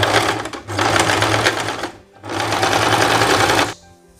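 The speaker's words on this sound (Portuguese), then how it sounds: "E eu vou começar a passar na máquina agora a parte da bainha." A sewing machine stitches a trouser hem in two long, loud, steady runs of rapid whirring clatter, separated by a brief pause, then stops.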